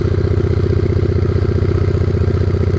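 Honda Megapro motorcycle engine idling just after a cold start following five days unused, a loud, close, steady rapid thumping pulse with a clattery mechanical edge.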